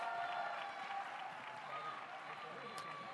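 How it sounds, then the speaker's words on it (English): Audience applause following a 2018 California gubernatorial debate, a steady wash of clapping from a crowd, moderately loud and continuous, with a voice speaking over it. "A big round of applause, as long and loud."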